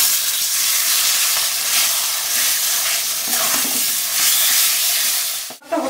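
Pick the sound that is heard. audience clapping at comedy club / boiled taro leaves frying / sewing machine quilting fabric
boiled taro leaves frying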